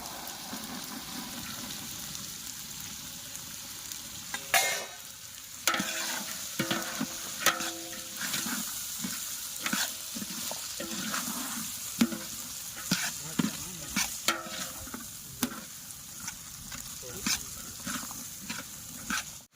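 Green peas for Girnari khichdi sizzle and fry steadily in a pan while a spoon stirs them, scraping and tapping against the metal in an irregular rhythm, up close with no talking.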